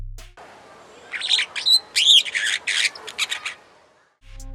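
A superb starling of the East African savanna and acacia woodland gives a lively run of bright chirps, whistles and squawky notes, close and clear against a quiet background, with short pauses between bursts.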